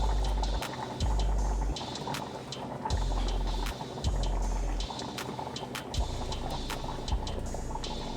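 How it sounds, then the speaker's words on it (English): Hamburger steak gravy simmering low in a pan, a steady close bubbling and popping texture with occasional soft clicks and thumps, no talking. "Now I'm gonna let this simmer on low."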